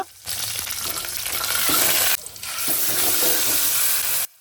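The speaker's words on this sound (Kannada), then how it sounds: "ಇವಾಗ ನಾವಿದನ್ನ ಒಗ್ಗರಣೆ ಮಾಡೋಣ" Loud, steady sizzling of mustard seeds, onion and curry leaves hitting hot oil, with stirring scrapes, briefly dropping out twice before resuming.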